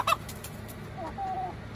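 Leghorn chickens in a coop at bedtime give a few short, close clucks near the start, followed by softer bird calls over a steady low background hum.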